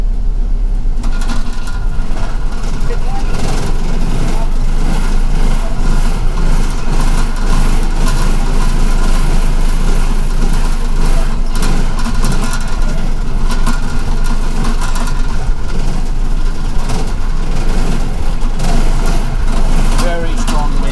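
The engine of an M103 New York City bus drones low and steady during a blizzard with very strong winds, a loud, continuous rumble with people talking over it throughout.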